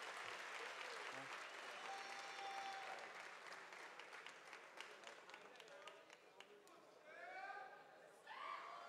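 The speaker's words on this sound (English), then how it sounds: "let's give all five of them a wonderful round of applause" A large pageant crowd at the Miss Continental 2016 crowning applauds steadily, dense clapping filling the whole stretch with a few cheers and whoops rising near the end.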